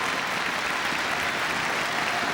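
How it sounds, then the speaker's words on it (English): Crowd applause in an arena at the end of a badminton match at the All England championships, a dense, loud, continuous roar of clapping with no break. "Both players applaud the crowd, thank them for their support."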